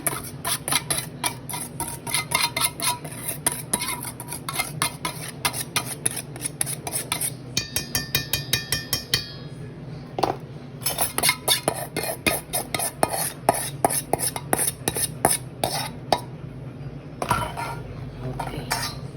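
Utensils stir and scrape through macaroni pasta salad in a dish. The rhythmic clicking and rubbing strokes run steadily for a long stretch, with a brief pause partway through and no talk.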